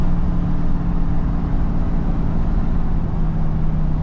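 A vehicle towing a 1964 Ford tractor downshifts while slowing on a hill, its engine holding a loud, steady low drone with constant road and wind noise.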